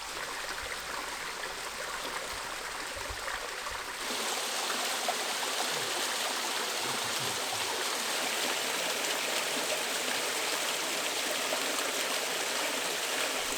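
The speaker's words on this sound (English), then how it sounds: "Jo is up there taking some footage of a nice pretty waterfall" The Pwll-y-Wrach waterfall rushes in a steady, continuous splash and hiss, heard alone with no voices, growing fuller and louder after the first few seconds.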